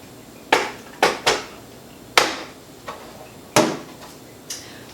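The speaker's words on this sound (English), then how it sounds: "then it goes into the bread machine" A bread pan is set into a bread machine while honey whole wheat bread is being made: a handful of sharp, close knocks and clunks spaced irregularly over a few seconds, with quiet pauses between them.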